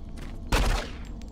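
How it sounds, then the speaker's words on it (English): Pistol gunshot from the video game Doom 3, heard as a single dull, muffled burst about half a second long, fairly loud over a low background hum. "Why does the pistol sound like a wet sponge?"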